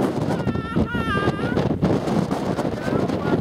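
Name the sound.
strong wind storm in California high desert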